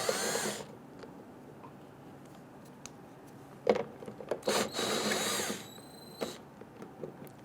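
Ten-millimetre bolts being loosened and removed at the gas cap of a 1994-2004 Ford Mustang, heard as a few short bursts of a power tool and scattered metallic clicks close by, with quiet gaps between them.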